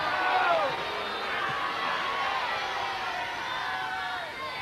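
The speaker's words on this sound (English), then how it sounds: "Give them a cheer," An outdoor crowd cheers and shouts during a 1982 It's a Knockout team game between Christchurch, Gosport and Winchester. The steady, fairly distant roar carries some whistles and holds throughout.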